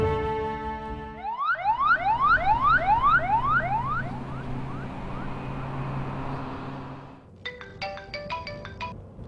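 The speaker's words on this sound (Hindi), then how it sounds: "एम्बुलेंस।" An ambulance siren sounds in a rapid, repeating electronic whoop pattern that goes on for several seconds, loud and close, then fades out. A short run of ringtone-like beeps follows at the end.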